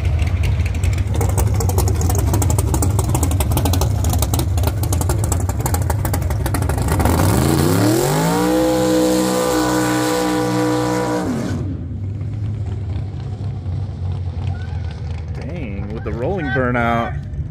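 A 12-second street car engine revs hard and loud with rising, roaring pitch, tires scrabbling through rolling burnouts, then drops back to a lower rumble; voices talk over it.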